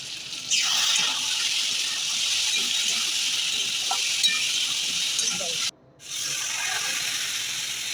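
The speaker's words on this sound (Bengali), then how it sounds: "পরিমাণ মতো জল দিয়ে দিলাম।" Water is poured into a pan of crab curry as it cooks: a steady, fairly loud rushing hiss that runs for several seconds, stops briefly, then resumes.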